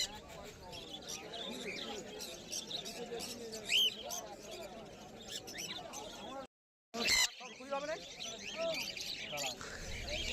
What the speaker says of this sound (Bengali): এখানে কিছু লুটিনো কোকাটেলও আছে।